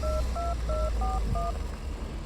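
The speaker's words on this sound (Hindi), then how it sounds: "गाड़ी चलाते हुए अभिनव ने बलराज का नंबर भी डायल कर दिया" A run of five two-tone phone keypad beeps as a number is dialed on a mobile phone while driving, evenly spaced and clear over a steady low car-cabin rumble.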